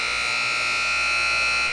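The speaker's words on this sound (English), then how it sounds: "Sometimes that horn can go on for a while." A gym horn buzzer at a girls' basketball regional final blares continuously, loud and steady for the whole stretch with no pauses and no talk over it.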